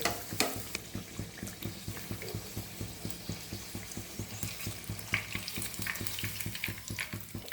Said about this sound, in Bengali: এই গরম তেলগুলো এই ওপর থেকে এরকমভাবে আস্তে আস্তে দিতে থাকবো, তবেই কিন্তু ফ্রাইটা সুন্দর হবে।